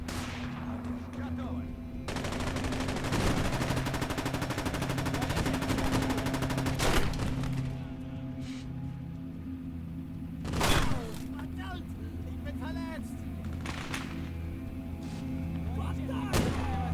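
Infantry battle at Kursk in Gates of Hell: bursts of machine-gun fire and heavy artillery booms rumble over a constant droning battlefield bed, with a loud blast near the middle and scattered cracks throughout.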